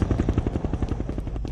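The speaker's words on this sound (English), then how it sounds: "Oh shit. Helicopters." Helicopter rotors chop steadily in the video game F.E.A.R., a loud, close, rapid rhythmic thudding that holds through the whole stretch with no talk over it.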